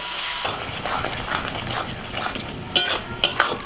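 Ground spice paste of coriander, cumin, dry and green chilli, turmeric and salt being stirred and fried in oil in a pan, a steady close scraping and sizzle with a few sharp metallic clinks of a spoon against the pan near the end.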